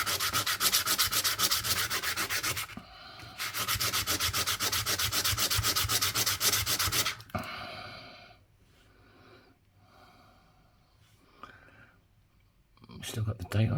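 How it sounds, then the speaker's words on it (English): Sandpaper rubs hard against a small, worn coin being shaped into a ring, with steady loud scratching strokes for several seconds, then quieter scattered scrapes and breathing before one more burst of sanding. "let's get the sandpaper out"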